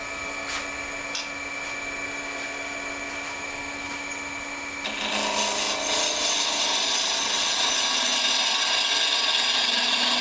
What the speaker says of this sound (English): we're going to switch to a spindle gouge